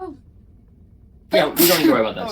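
A single sharp human sneeze bursts out after a quiet stretch, followed by voices talking.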